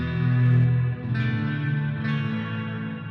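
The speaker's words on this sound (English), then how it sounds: "I hear the reverb equal." Electric guitar played through the Fender Tone Master Pro with reverb set to a 50-50 mix, sustained chords ringing into a dense wash of reverb tail, with a fresh strum about every second.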